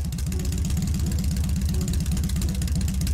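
A motorbike engine from a video game sets an internal combustion engine with pistons running steadily and close, a loud rhythmic low chugging pulse with a buzzy exhaust texture. There is no talk.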